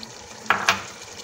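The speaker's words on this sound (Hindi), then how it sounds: "ज़रा दही डालूँ" Yogurt poured into a pan of sizzling beef for bhuna gosht gives two short, bright sizzling hisses in quick succession over a quiet kitchen background, with no talking.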